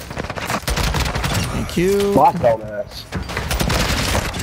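Rapid video game gunfire in a multiplayer bomb-plant shooter, dense bursts of shots running throughout at close range, with a voice speaking briefly over the shooting.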